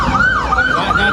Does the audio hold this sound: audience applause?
no